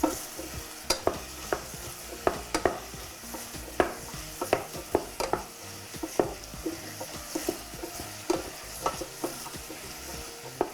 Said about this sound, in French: Je vais le faire revenir un petit peu... ça, avant de rajouter un bouillon.